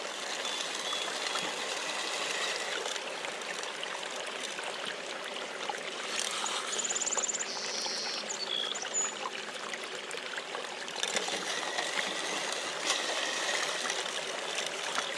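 Water rushing and roiling through a Gold Hog multi sluice carrying gravel classified to a quarter inch, a steady close outdoor wash with no talk.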